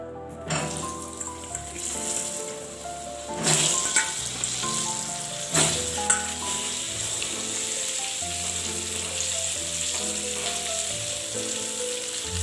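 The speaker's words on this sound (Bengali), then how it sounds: "আলুটাকে একটু লাল লাল করে ভেজে নিতে হবে।" Potatoes fry in hot oil in a wok, a steady close sizzle with a couple of louder bursts as they are turned, continuing evenly with no talking.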